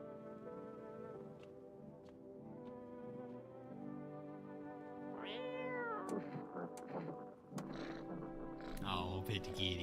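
A cat in the video game No, I Am Not A Human meows several times, with drawn-out, wavering calls clustered in the second half over a steady tonal background.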